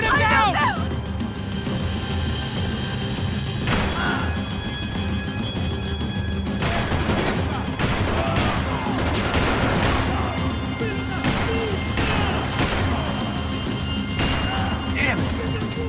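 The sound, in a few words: gunfire shooting at someone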